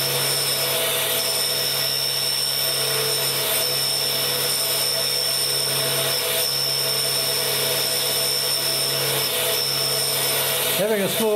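A small bench grinder runs steadily with a continuous high whine while grinding an extra fine pitch tap, the tone holding throughout and rising briefly in pitch near the end.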